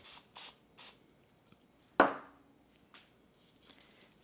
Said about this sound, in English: So then I just spray it with some cooking spray